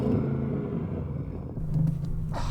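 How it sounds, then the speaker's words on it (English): Audi RS6 V8 revved in full sports mode while stationary, a deep, steady engine rumble whose pitch shifts partway through, held back by a soft limiter. "I'm going to rev mine up."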